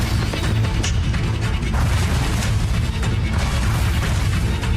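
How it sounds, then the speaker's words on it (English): Explosion from an episode of the Lord of Mysteries anime, a loud, dense burst of crashing, booming noise that fills the clip, with sharp impacts scattered through it. "Wait, he can explode himself."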